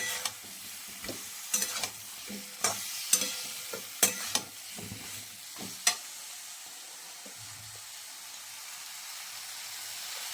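Tomato added to a frying tangra fish curry with flat beans and potato, sizzling in the pan with a run of stirring scrapes and knocks that fade into a quieter sizzle, no one talking.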